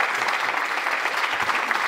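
Dense, steady applause from an audience at a summit on aging welcomes a speaker from Lambda Legal, a continuous close wash of clapping with no voices over it.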